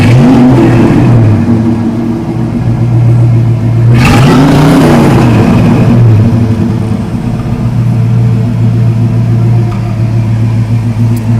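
A 1969 Ford Mustang Mach 1 big-block V8 idles with a loud, steady low rumble, then takes one sharp rev around the middle that rises and falls before settling back to idle.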